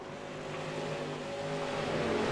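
A late-model race car engine on nitrous holds a steady, loud droning roar with a high whining tone during a 200-lap short-track race, with no talk over it.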